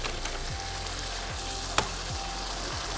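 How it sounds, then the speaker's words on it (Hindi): Minced meat (keema) frying steadily in a pan, with a continuous close sizzle and a few faint stirring knocks, no talk. "जब तक हमारा कीमा भुन रहा है"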